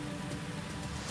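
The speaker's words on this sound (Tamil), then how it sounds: "ராமநாதபுரத்தில் பெய்த கனமழை காரணமாக சாலைகளில் மழைநீர் வெள்ளம் போல் பெருக்கெடுத்து ஓடியது" Heavy rain in Ramanathapuram pouring onto a road as rainwater floods and runs along it, a dense, steady hiss of rainfall and flowing water with no voices.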